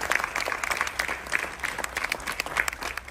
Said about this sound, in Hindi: जोरदार तालियां हमारे इन दोनों महारथियों के लिए।